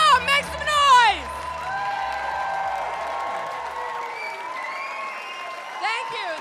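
A comedy club audience at Gotham Comedy Club bursts into loud cheering and applause with whoops, a dense steady roar that holds for several seconds before easing as the performer starts speaking over it.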